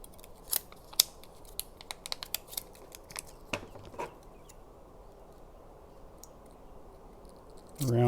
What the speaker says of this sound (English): cut you a small piece off there, another small piece off there.